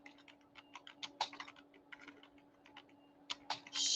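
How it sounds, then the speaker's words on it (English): Rapid, irregular keystrokes on a computer keyboard, tapped in short bursts close to the microphone, with a steady low hum underneath and no voices. "and I'll type it in here."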